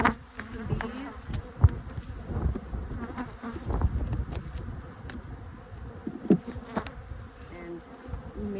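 Honey bees at a hive in February buzz steadily and close, a dense droning hum with a few individual insects flying past and occasional soft knocks.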